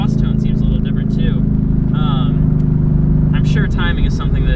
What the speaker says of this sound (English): The exhaust pops and crackles a lot more, it sounds amazing